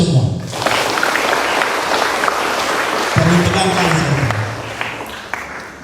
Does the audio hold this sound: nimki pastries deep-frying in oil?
no